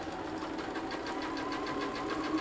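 A sewing machine stitches along the edge of a fabric book pouch, with a fast, even mechanical chatter that runs steadily and close throughout and no voices.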